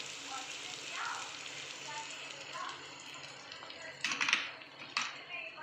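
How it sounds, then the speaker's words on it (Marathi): Black masala spice fries in a pan with coriander powder and garlic chilli, a soft, low sizzle with occasional stirring scrapes, fainter in the background and louder clicks near the end. "काळा मसाला व्यवस्थित फ्राय करून घेऊ"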